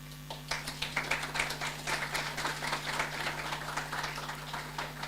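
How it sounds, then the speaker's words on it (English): A hall audience claps for an inductee at a calypso hall of fame induction ceremony in Dominica, dense and steady across the whole stretch over a constant electrical hum. "I want to pause to give him a round of applause"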